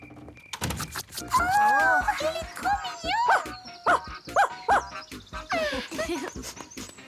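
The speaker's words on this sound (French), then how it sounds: "Fais gaffe, il mord peut-être ce chien." A stray dog barks in a series of sharp, loud yelps and whines close by, interleaved with short bursts of other sounds.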